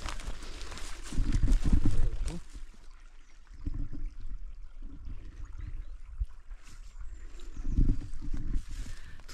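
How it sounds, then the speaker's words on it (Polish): Steady rushing water of the Kłodnica river meandering through a forest in Ruda Śląska, a constant broad wash with low rumbling swells, heard close. "I cisza, tylko słychać szum wody"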